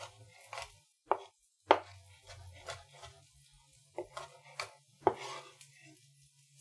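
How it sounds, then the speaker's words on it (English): A knife roughly chopping chicken taco ingredients on a board, a handful of sharp irregular knocks with quiet gaps between, close and fairly soft, with faint kitchen background noise. "I'm going to give these a rough chop like this"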